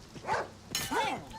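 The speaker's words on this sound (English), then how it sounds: "That's a dog." A dog barks twice in the Oblivion Remastered game world, two short yaps with a pause between them, fairly close and moderately loud over faint background sound.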